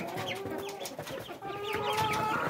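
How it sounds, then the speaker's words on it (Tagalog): Three-day-old ducklings on a backyard farm peep in quick, repeated high chirps, fairly faint and close together, with no talking. "Yung mga maliliit na ducklings, mga kabi farming, ay 3 days pa lang mga yan."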